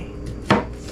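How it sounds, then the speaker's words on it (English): A knife slices through a bell pepper, cutting it into strips in a kitchen, giving one crisp, close chop against a quiet background. "Now we're going to cut them into strips."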